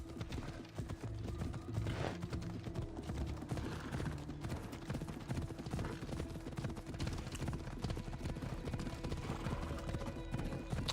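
Hooves clip-clop in a steady, rapid rhythm in the Assassin's Creed Odyssey video game, with a whinny among the hoofbeats, the sound faint and continuous.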